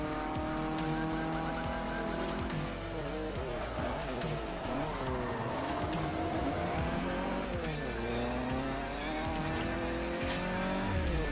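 Cars racing in Forza Horizon with engines revving hard, shifting pitch through gear changes, and tires squealing and skidding as they corner, loud and continuous throughout.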